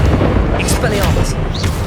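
Expelliarmus disarming spell cast in the Hogwarts Legacy video game during the Pensieve Guardian boss fight, heard as heavy booming blasts and rumbling impacts, loud and close, with a voice over them.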